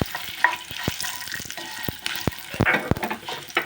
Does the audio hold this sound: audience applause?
no